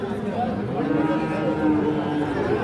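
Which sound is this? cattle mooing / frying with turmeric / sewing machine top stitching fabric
cattle mooing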